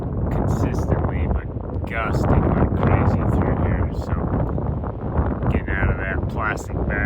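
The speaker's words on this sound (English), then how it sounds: "the wind's still blowing" Wind gusting hard outdoors on the Pacific Crest Trail between South Lake Tahoe and Sierra City, a loud, steady roar buffeting the microphone for the whole stretch, with a voice talking faintly underneath.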